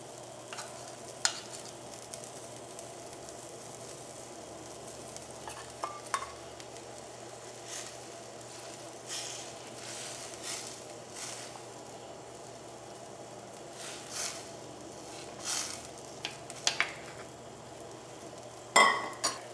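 Fish curry bubbles and simmers in a pot of boiling water after the fish goes in, a steady soft sizzle broken by occasional clinks of a spoon or utensil against the pot.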